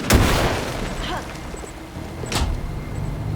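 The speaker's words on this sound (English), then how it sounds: "Flashbang, too OP." A flashbang detonates in the video game Alan Wake 2 with a sharp burst at the start and a second bright crack a couple of seconds later, over a dense game soundscape with low rumble.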